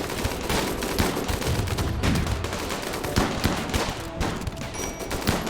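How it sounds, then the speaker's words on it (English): Gunfire in the Rimworld video game: a rapid, sustained exchange of many overlapping shots and bursts, dense and fairly loud, with no voices heard. "They are shooting back at us."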